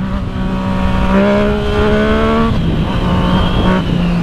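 A Yamaha MT motorcycle pulls hard under acceleration in standard riding mode, its engine note climbing steadily through the gears. The sound stays loud and close, with rising harmonic tones and shifts around the gear changes, and no voices over it.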